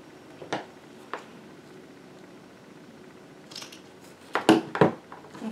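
A few sharp snips of scissors cutting through stiff cardstock, two isolated cuts early, then a quick cluster of louder snips near the end.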